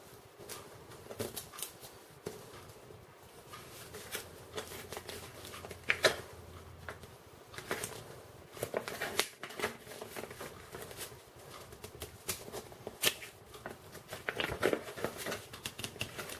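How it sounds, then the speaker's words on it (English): Vinyl album packaging handled by hand, scattered soft rustles, crinkles and taps of paper and card coming and going at close range with no voice. "Let me take that out so you can see the rest of the album packaging, if possible."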